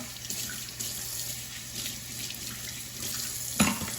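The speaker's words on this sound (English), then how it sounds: "So I'm gonna rinse this" Water runs steadily from a tap over vegetables being rinsed, with a soft continuous splashing and a short clatter near the end.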